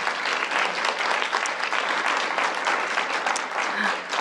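Audience applause at a Washington, D.C. mayoral Education Week event honoring public librarians: steady, dense clapping from a large crowd that holds for the full stretch without breaks.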